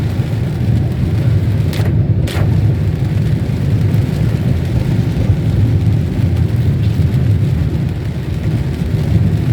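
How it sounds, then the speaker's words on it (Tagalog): Heavy rain pours in Quezon City as a loud, steady broadband wash that continues without a break, with a low rumble underneath and no talk. "Lakas ng ulan."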